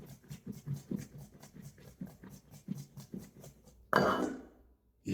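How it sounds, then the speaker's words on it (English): Four eggs rattle and knock inside a lidded container as it is shaken in a rhythmic series of soft thuds, followed by a louder burst of noise near the end. "get my lid, 4 eggs, and we're going to give it a good shake"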